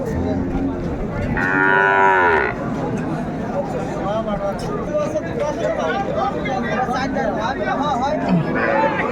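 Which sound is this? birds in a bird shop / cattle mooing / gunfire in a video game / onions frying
cattle mooing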